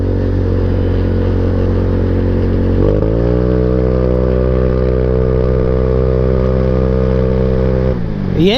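Genuine Blackjack motorcycle engine droning steadily close up while riding a commuting road, its pitch climbing in stepped rises as the bike speeds up, with a brief dip and rise near the end; no talking.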